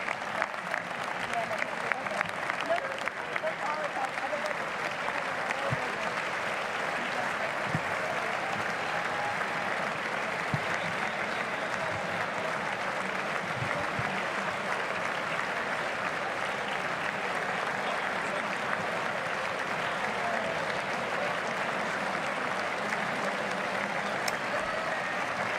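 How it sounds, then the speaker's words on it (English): Prolonged applause at a State of the Union address, a dense, even wash of clapping from a large chamber audience that holds steady without letup, with faint talk mixed underneath. "The clapping, man. How do you clap for that long?"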